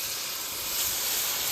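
Water hits frying crab masala made with Sundarbans crab in a hot pan, letting out a loud, steady burst of hissing steam and sizzle, close up and brief.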